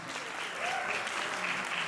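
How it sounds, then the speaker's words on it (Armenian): Warm audience applause rises at a Los Angeles dance award ceremony, a broad, even roar of many clapping hands that thickens slightly halfway through and holds steady. "Եվ իհարկե Վարդան Աղաջանյանին ձեր ջերմ ծափահարությունները"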